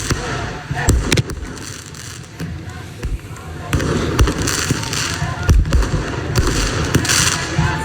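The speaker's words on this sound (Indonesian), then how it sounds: "Sekelompok demonstran pro-Palestina menembakkan kembang api ke arah kedutaan besar Israel." Fireworks fired by pro-Palestinian protesters toward the Israeli embassy in Athens, Greece, with sharp bangs and crackling bursts popping irregularly over a noisy street crowd.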